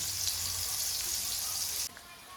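Silver fish pieces frying in a pan give a steady, broad sizzle that cuts off abruptly near the end, leaving quieter kitchen noise.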